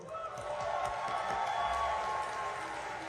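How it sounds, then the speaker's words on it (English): Sustained applause from an audience at an awards ceremony fills the room, a dense wash of clapping with some crowd murmur. "let's give another huge round of applause to all our awardees this evening"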